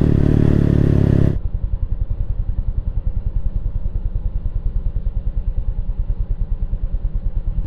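A motorcycle is ridden on a morning ride. After a loud burst of wind noise, its engine settles into a steady pulsing throb, close and continuous, with no talk.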